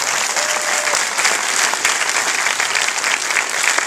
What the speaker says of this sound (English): Thank you all for clapping.